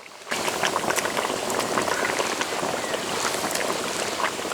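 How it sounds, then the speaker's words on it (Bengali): Fish curry broth boils in a pan. A dense, bubbling simmer starts abruptly and continues steadily up close, with no voices. "ঝোল ফুটে উঠেছে, ভেজে রাখা মাছ দিয়ে দেব।"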